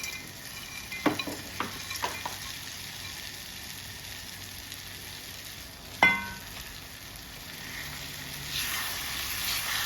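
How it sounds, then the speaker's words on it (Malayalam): Pieces of fried tuna drop into a pan of vinegar-laced pickle masala and sizzle. Several soft plops come early, then a sharper splash at about 6 seconds, over a continuous quiet frying hiss. "വറുത്ത് വെച്ച മീൻ ഇതിലേക്ക് ഇടാം."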